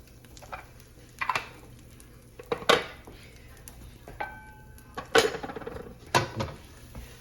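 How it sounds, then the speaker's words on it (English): Half a stick of butter melting in a pan over medium heat and being pushed around, giving soft scraping and clattering strokes in uneven bursts over a faint sizzle and low background hum. "Throw in about a half a stick of butter"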